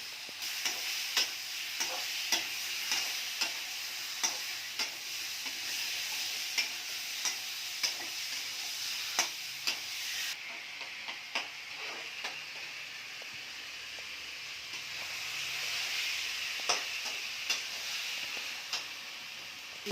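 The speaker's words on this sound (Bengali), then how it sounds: "কষাই নেব মাছটা, এই যে মাছগুলো উঠে নেব এখন, কষানো শেষ" Large koi fish fry in a pan with a continuous hissing sizzle, punctuated by a regular series of sharp clicks and taps from a utensil against the pan, nearby and fairly loud.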